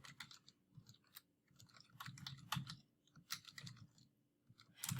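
Light, irregular keyboard typing as a search topic is entered into an academic database, quiet and close, with scattered clicks and pauses over a soft low hum.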